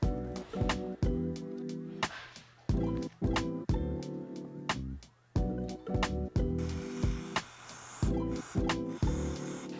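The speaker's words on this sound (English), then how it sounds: "I'm gonna spray up in here with that contact cleaner before I remove it." Contact cleaner is sprayed into a WP Supertrax shock body: several short hissing bursts, close and fairly loud, repeated in irregular rhythm with a steady low hum underneath.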